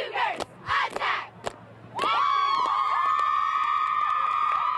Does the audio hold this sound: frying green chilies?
no